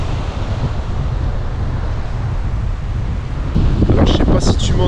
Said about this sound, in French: entend bien, il y a pas mal de vent.